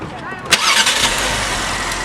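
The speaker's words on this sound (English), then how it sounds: "And start the car up." A 2020 Lincoln Aviator SUV engine starting, a sharp crank burst followed by a settling idle hum, close and moderately loud, with a voice speaking over it.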